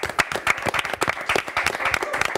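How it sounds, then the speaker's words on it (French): Lively applause fills the room after a live televised hypnotist act, with a close crowd clapping quickly and irregularly, dense and bright throughout the short burst. "Kundalini, sous vos applaudissements"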